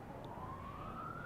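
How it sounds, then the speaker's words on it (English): A police siren wails faintly in the distance, a single rising tone under a low background hum, heard at a county cricket match between Glamorgan and Leicestershire. "sounds like a police car"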